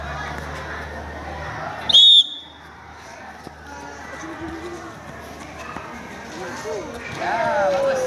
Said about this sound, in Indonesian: Ya, dengarkan tanda peluit Pak.